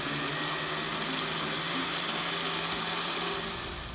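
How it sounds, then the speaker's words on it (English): An electric blender whirs steadily, blending a pepper-seasoned marinade for Korean BBQ short ribs; the loud, even motor drone runs unbroken and eases slightly at the end. "Now we're gonna blend this thing."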